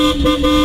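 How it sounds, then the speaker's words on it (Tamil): A short, steady car horn blast sounds on the road during a driving lesson, a single continuous tonal honk lasting under a second. "ஹார்ன் அடிக்கணும்."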